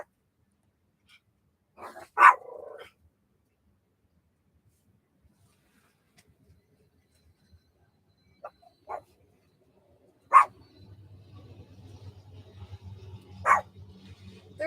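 A dog barks in sharp, isolated bursts spread over the stretch, some louder and nearer, with a low rumbling, growl-like undertone toward the end.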